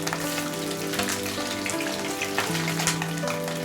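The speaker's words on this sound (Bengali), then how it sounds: "মাছের ডিমটাকে ভেজে নেওয়া হয়ে গেছে" Catla fish roe fries in a pan, a steady, fine sizzle and crackle running under background music, with no voices.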